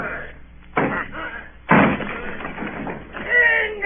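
Heavy wooden house door battered down with loud slams and splintering thuds in an old radio drama of Treasure Island, two big crashing impacts followed by rumbling debris, with shouting voices over the commotion.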